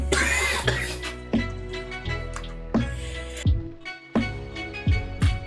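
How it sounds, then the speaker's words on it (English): A woman with a week-long cough linked to hay fever coughs repeatedly, close to the microphone, in a run of short, rough bursts with brief gaps between them and no talk. "I've had this cough for the past like a week."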